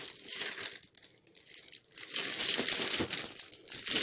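Plastic film being peeled and unwrapped from a Kingston HyperX Alloy Elite RGB keyboard, crinkling and crackling loudly and close up in continuous bursts, with a brief quieter pause in between.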